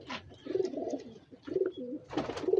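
Pigeons, star pigeons kept in a breeder's loft, coo in soft repeated low bursts, several overlapping calls close by with brief pauses between them and no talking.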